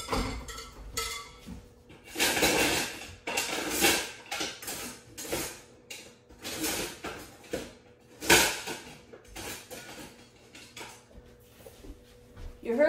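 Metal cutlery rattles and clatters in a kitchen drawer while someone hunts for a spoon, sounding in irregular bursts of jangling separated by brief pauses, with a voice speaking faintly at times.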